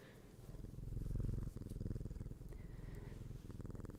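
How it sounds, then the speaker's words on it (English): A cat purring close up, a steady rhythmic rumble that pulses with each breath and stays loud throughout. "he's been purring like crazy"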